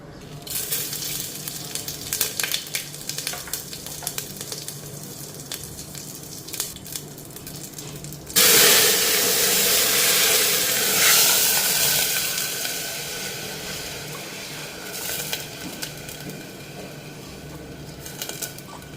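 Dried red chillies and cumin drop into hot oil halfway through, setting off a sudden loud sizzle that crackles steadily and then eases, with faint stirring clatter before it.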